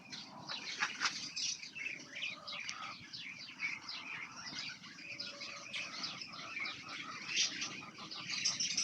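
Racing pigeons flap their wings as they fly in and land on the roof of a pigeon loft, a close fluttering mixed with busy chirps and calls from other birds nearby.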